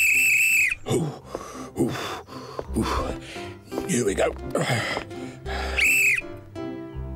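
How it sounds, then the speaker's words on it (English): A shrill whistle is blown in short blasts at a cartoon father's football fitness session, the piercing tone standing out amid talking, effort noises and a cheerful music score. "This whistle is great."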